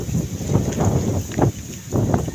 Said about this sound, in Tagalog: Ayan, mahangin pa, matutumba pa yung dala natin.